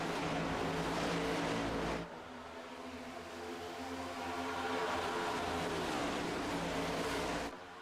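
Race car engines in the iRacing ECR NextGen Cup Series game at Atlanta roar continuously, a high droning whine that shifts pitch as the cars accelerate, with no voices.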